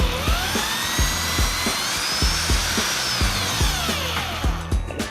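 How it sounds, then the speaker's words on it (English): A power drill whines steadily while drilling out a bulb on a Miata, grinding into something hard, with a regular pulsing knock throughout and the pitch shifting slightly as it works. "we started with a small drill and slowly working up to the bigger drill"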